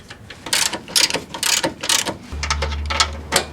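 A ratchet wrench clicks in quick bursts while tightening a nut on the stabilizer bar of a Chrysler PT Cruiser, close and crisp, with a low hum entering near the end.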